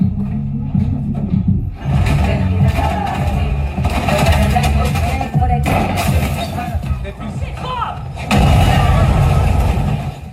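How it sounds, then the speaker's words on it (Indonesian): Bomb blasts and heavy booming explosions from The Expendables 4 rumble loudly in dense bursts, mixed with gunfire-like bangs and score, with a strong low-end roar swelling near the end. "Saat bom sudah meledak"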